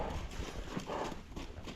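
A young filly shifts and steps on the ground during training, a few soft close hoof thuds and clops over a low rumble, brief and fairly quiet.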